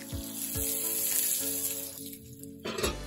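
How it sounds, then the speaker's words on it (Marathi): A hot tempering of oil, browned garlic and chili powder is poured over a dal and fenugreek dish, giving a soft, brief sizzle near the start that fades to a faint crackle. A few light clinks of kitchen utensils come close by. "फोडणी याच्यावर वाटायची."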